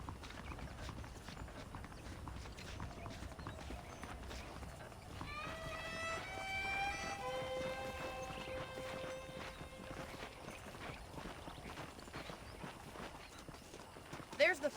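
Horses clip-clop at a trot in the Western video game Red Dead Redemption, a steady close rhythm of hooves running through, while a voice and a neigh-like tonal cry sound in the middle.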